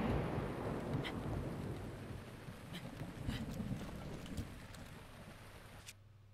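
Rain and thunder from the Zelda Breath of the Wild video game: steady rainfall hiss with low thunder rumbles fading out near the end, no speech.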